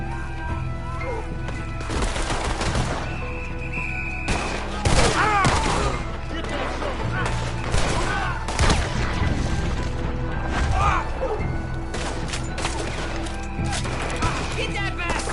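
Bursts of gunfire crack out in a video game shootout, with a dense run of shots and smashing impacts coming in irregular clusters over a continuous busy background. Voices are mixed in among the shots.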